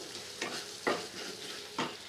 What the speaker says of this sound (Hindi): ये देखिए अच्छे से भुने जा रहा मसाला